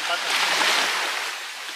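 Rough sea off Lantauni beach washes in a steady broad hiss of surf and wind, a continuous loud wash around a small katinting boat with no distinct breaks.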